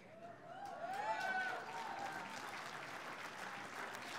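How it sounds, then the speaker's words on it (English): Audience applause at a national convention speech by a U.S. senator, a dense wash of clapping that swells around the first second and then holds steady through the clip with some crowd cheering. "Now, I'm glad you clapped at that."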